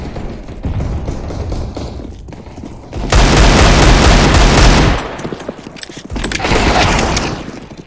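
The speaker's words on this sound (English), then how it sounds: "Grenade out." A grenade explosion and gunfire in the video game Counter-Strike: Global Offensive: loud dense bursts of rapid shots with heavy booming blasts, two sustained roaring stretches dominating the mix, near and intense.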